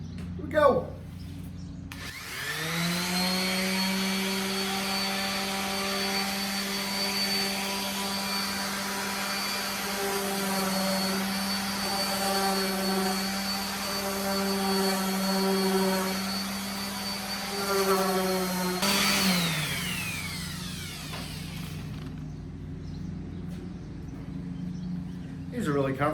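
A power sander on wood whirs steadily for about twenty seconds, a loud droning motor hum that spins up at the start and winds down near the end.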